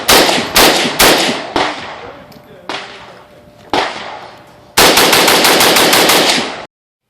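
AK-pattern rifle fitted with a PWS FSC 556/47 muzzle device, firing loud, sharp shots outdoors, first as several single and paired shots, then a rapid string of about ten closely spaced rounds before cutting off abruptly.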